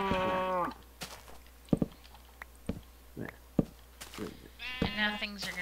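Sheep bleating in a mining-themed video game, several wavering bleats with sharp clicks and short noises between them, fairly close and clear, with no talking over them.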